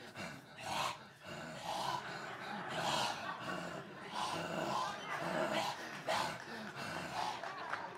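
Performer imitates a creature with guttural growls, snorts and heavy rasping breaths in repeated bursts, close and fairly quiet, with pauses between vocal pushes.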